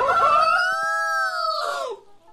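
A rooster crow with a rising, sustained harmonic call lasting about two seconds, loud and close, then fading out; no talk over it.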